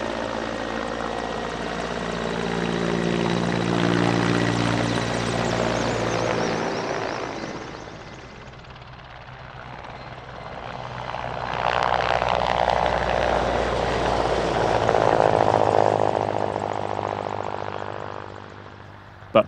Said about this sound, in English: we do have to take a quick look at the departure of this Polish Air Force Milny 8, one of a couple of transport helicopters